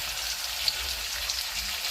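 Sliced food frying in a pan gives off a steady, soft hiss and crackle with occasional small pops, fairly quiet and close, with no one talking.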